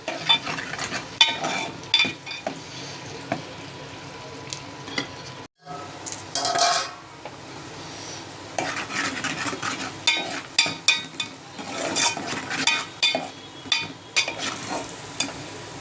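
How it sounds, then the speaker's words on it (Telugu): Chopped onions fry in a pan, browning under a constant close sizzle while a spoon scrapes and stirs in irregular bursts, with a brief pause near the middle and no voices. "ఉల్లిపాయలు అనేది వేసుకున్నాం కాబట్టి ఇవి కొంచెం బ్రౌన్ కలర్లో వచ్చే వరకు ఫ్రై చేసుకుందాం."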